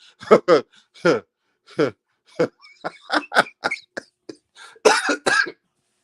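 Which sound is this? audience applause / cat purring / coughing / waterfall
coughing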